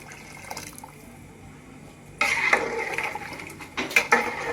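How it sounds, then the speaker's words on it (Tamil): Hot water pours steadily into a pot of chicken biryani, a splashing rush that starts abruptly partway through and continues, with a few clinks near the end. "தண்ணி சூடாயிடுச்சு. இப்போ ஊற்றிடலாம்."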